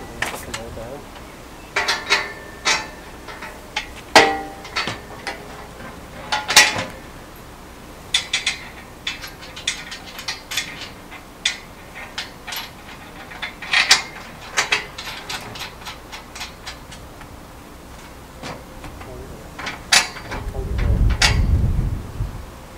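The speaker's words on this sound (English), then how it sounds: "we're just going to put each of them in loose before we tighten them up" Steel formwork ties for a Fast Form steel wall system are set loosely into place by hand, giving repeated sharp metallic clicks, clanks and rattles at irregular intervals, close and fairly loud, with a low rumble near the end.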